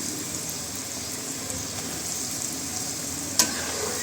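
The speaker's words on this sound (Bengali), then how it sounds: "একটু তেল বেশি করে দিয়ে তারপর ডুবো তেলে আমি ভেজে নিব।" Potato sticks for French fries deep-frying in plenty of oil, an even, continuous bubbling hiss close by with one brief sharp click near the end, no speech.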